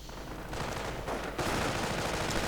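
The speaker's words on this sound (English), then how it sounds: "Grenadiers here coming a bit under fire." Gunfire in a real-time strategy game battle, continuous rattling volleys of small-arms fire layered into a dense, loud roar that swells after a brief dip.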